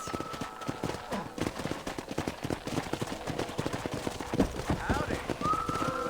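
Horse hooves clip-clopping at a steady walking rhythm in the Western video game Red Dead Redemption, near and continuous, with faint background game ambience and occasional tonal sounds.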